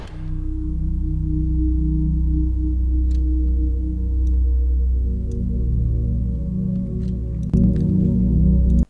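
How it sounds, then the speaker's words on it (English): A sustained synth pad with layered, shifting tones, dry and steady, a faint click near the end and nobody speaking. "I will show you without the effects."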